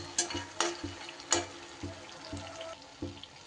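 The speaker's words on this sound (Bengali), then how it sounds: "সুন্দর করে লাল লাল করে বড়িটাকে আমি ভেজে তুলে নেবো" Homemade bori lentil dumplings fry quietly in a pan with a soft sizzle, broken by several light clinks and stirring knocks.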